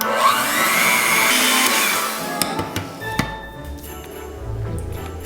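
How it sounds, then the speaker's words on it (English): An electric mixer whirs loudly in a bowl, mixing powdered sugar into a brownie topping mixture, then stops, followed by a few knocks and clatters of utensils. "I'm going to put that in, and then I'm going to mix this until it's combined."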